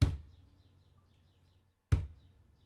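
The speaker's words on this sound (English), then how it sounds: "That is literally me punching the table." Two hard, dull thumps from a fist punching a table, used as a homemade kick-drum sample, each a loud sharp hit with a short boomy decay, spaced about two seconds apart, with faint birdsong chirping in the background.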